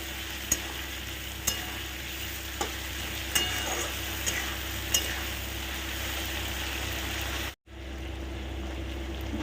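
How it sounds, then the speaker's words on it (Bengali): Prawns and potato pieces fry together in a pan with a little sugar, giving a steady close sizzle. Sharp stirring clicks break through every second or so, and the sound cuts out briefly once. "আলু, চিংড়ি মাছ সব একসঙ্গে ভেজে নিয়ে আমার চিংড়ি মাছটা কিন্তু ভাজা হয়ে গেছে"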